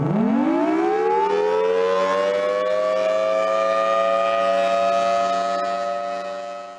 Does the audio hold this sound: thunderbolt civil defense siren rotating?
yes